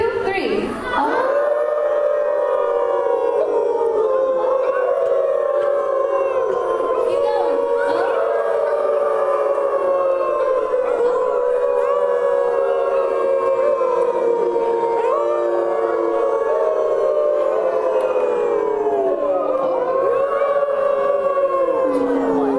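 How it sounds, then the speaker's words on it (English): Wolf dogs howl together at a science center, a loud, sustained chorus of overlapping rising and falling howls lasting over twenty seconds, with people joining in and howling along at the start. "In order to get them to howl, we have to howl nice and loud"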